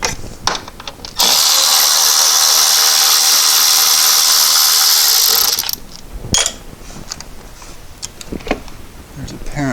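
A 10mm socket on a power tool or ratchet loosening battery tray bolts on a VW Golf Alltrack, one loud, steady, high whine lasting about four seconds, followed by clinks and tool handling.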